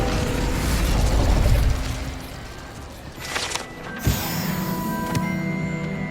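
Incendio fire spell cast in Hogwarts Legacy, a rushing whoosh and roar followed by sharp bursts and crackling pops, loud against a dense game soundscape with a lingering ringing tone afterward.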